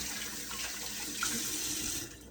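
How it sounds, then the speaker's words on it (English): A kitchen tap runs steadily into the sink as hands are washed under it while pineapple lemonade is being made, a continuous close splash that stops near the end. "Washing my hands again."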